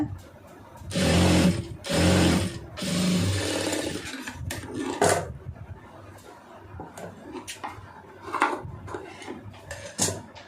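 Sewing machine stitching a round neck on a garment, several bursts of fast mechanical whirring, loudest early on, then lighter intermittent clicks and handling sounds.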